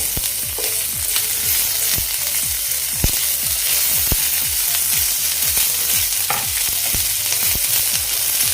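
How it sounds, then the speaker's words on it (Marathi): Chopped onion sizzles in hot oil in a pan for a chutney to serve with rava idli, a loud, even crackling hiss with a rapid run of ticking stir and spatter clicks throughout. "आता यामध्ये कांदा घालते"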